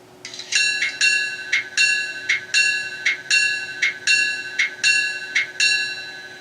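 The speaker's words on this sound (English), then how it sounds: "Well, let's start with the bell." The electronic bell of an Intermountain SD40-2 N-scale model locomotive rings in an even, repeating rhythm, about a dozen bright metallic strikes, close and clear with no talk.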